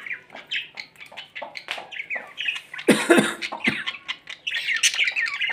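Harsh squawks and chattering parrot calls overlap in quick bursts, fairly close, with louder screeches near the middle.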